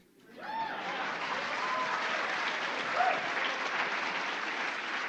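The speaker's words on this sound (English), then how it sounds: "Y'all can give a round of applause." An audience breaks into applause after a brief quiet start, swelling fast into a full, sustained round of clapping with a few faint cheers mixed in, steady and loud to the end.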